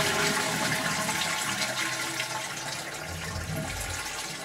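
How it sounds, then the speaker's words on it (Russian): A toilet flushes with a loud, rushing gush of water that runs steadily and then eases slightly toward the end, close and alone without any voices. "Вода смывается, соответственно, поршень поднимается и затем опускается."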